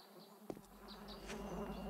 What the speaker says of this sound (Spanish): Registrar bolsa para transportar cadáveres amarilla con moscas